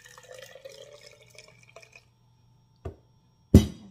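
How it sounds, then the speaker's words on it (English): Health juice is poured into a glass with a light trickling, bubbling stream that fades, followed by two short knocks of the glass or jug being set down, all close and without talk. "I'm gonna pour something inside this glass"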